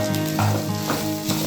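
Bottle gourd peel fries in a pan with a loud, dense, continuous sizzle, broken by brief stirring swishes close up.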